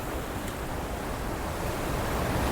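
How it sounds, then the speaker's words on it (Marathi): Floodwater of the Girna river near its source surges under a bridge, a steady, loud broadband roar of rushing water that holds without pause from start to end, with no voices. "बघा पूर्ण असं पाण्याने भरून गेलं इथं आणि पुढचा पूल पण भरपूर प्रमाणात त्याच्यातून पाणी जाऊ राहिलंय."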